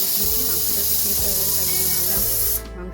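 Water running steadily from a tap into a household container during chores, a continuous loud hissing gush that carries on for several seconds before cutting off abruptly near the end.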